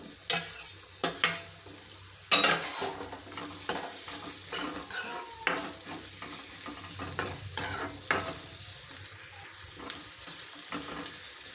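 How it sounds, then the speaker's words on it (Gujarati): Chopped capsicum being stir-fried in hot oil for restaurant-style Schezwan fried rice, a steady sizzle broken by repeated scraping and stirring strokes of a spatula against the pan, with no voices. "ત્યારબાદ આપણે કેપ્સિકમ મરચાંનું મેં કટિંગ કરી લીધું છે એ નાખશું।"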